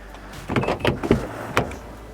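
A few close, solid thumps of a Mazda CX-30's doors shutting, spaced out over a couple of seconds, with a faint mechanical click between them.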